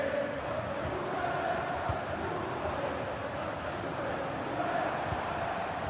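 A stadium crowd in a football video game roars as a steady, distant wash of massed voices, continuous and even without clear peaks throughout.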